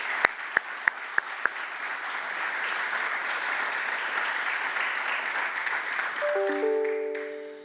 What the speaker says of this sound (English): please, let's give Wendy a round of applause.